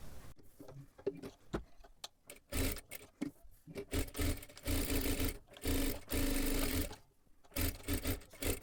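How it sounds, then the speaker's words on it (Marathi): A sewing machine runs a full line of stitching along the back of a sleeve lining in intermittent bursts, close and loud, with short pauses and cloth handling between runs. "आता इथे पाठीमागच्या बाजूला आपल्याला अस्तरला पूर्ण शिलाई मारून घ्यायची आहे."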